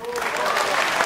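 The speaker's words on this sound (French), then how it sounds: "je remercie ceux qui applaudissent" Audience at a French Sens Commun political meeting applauding steadily, a dense, loud wash of clapping sustained throughout with no break.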